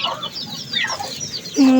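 A chicken hen clucks in a series of short, rapid, nasal calls close by, ending with a louder drawn-out squawk; no talking.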